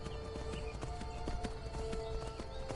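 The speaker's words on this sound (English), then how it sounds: "Drifting on my horse." Steady clip-clop of a horse's hooves trotting in the Skyrim video game, a continuous even rhythm of hoofbeats close by with ambient game background underneath.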